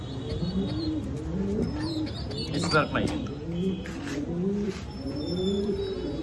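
Lahori pigeons coo in soft, repeated rolling calls close by, with a few chirps mixed in, under someone talking.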